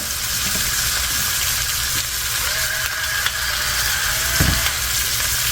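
Tomatoes fry in a pan for a Southern tomato and egg breakfast frittata, giving a loud, steady sizzle with faint scattered ticks and a brief utensil knock near the end.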